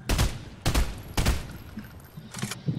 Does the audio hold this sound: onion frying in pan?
no